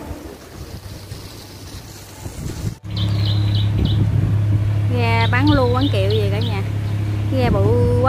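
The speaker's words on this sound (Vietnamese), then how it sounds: "ghe bự quá trời luôn ha." A large boat passes on a river in wind, its deep engine drone starting abruptly and holding steady and loud under gusty wind noise, while people talk over it.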